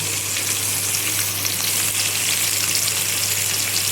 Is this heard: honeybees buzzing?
no